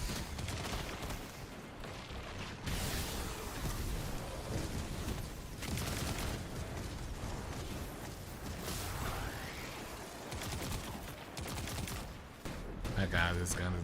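Video game gun fire in a dense, continuous barrage of rapid shots and bursts, loud and chaotic throughout with whooshes mixed in and a voice talking over it.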